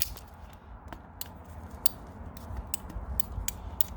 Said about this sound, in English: Move the ratchet around, making your cut.